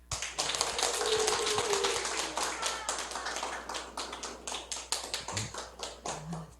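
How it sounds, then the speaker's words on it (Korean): An audience at a seniors' lecture in Korea gives a warm round of applause to welcome the speaker: sustained, dense clapping from many hands that holds steady, then thins into scattered claps near the end. "여러분 뜨거운 박수로 환영해 주십시오"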